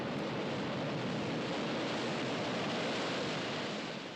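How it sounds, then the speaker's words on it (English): Wind blows in a steady, broad rush of noise, constant and even throughout with no voices. "and the wind blows."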